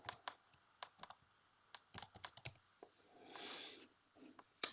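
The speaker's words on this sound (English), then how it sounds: "If I could type, it would really help." Sparse, quiet clicks of a computer keyboard being typed on in short uneven bursts, with a soft muffled rustle in between and a sharp click at the very end.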